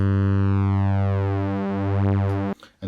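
An OB-Xd synthesizer, modelled on the Oberheim OB-X, holds a steady tone while cross modulation between oscillators creates sweeping, shifting metallic overtones, ending abruptly with a short noisy burst.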